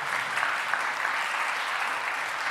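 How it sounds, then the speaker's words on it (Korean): A standing church congregation at a Sunday service claps in a steady, dense round of applause, continuous and moderately loud throughout. "잠깐 일어서시면 우리 축하의 박수를 한번 보내주시면 감사하겠고요"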